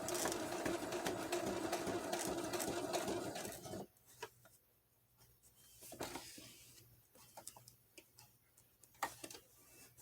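A sewing machine runs a straight stitch through fabric while tags are sewn onto a journal cover. It gives a steady, close mechanical rattle for a few seconds, then stops, leaving faint ticks and handling sounds.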